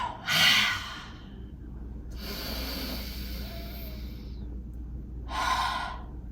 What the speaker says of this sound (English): Inhale, breathe in. Exhale, let it go.